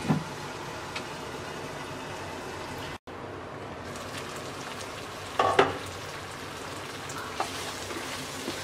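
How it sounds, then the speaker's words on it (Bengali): Chicken chaap simmering in a pan over medium-low heat, a steady soft sizzle and frying hiss throughout, with a brief stir and a couple of light clinks. "এবার মিডিয়াম লো হিটে চিকেনটা সিদ্ধ হওয়া পর্যন্ত রান্না করব।"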